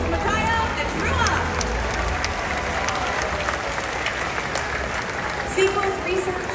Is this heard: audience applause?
yes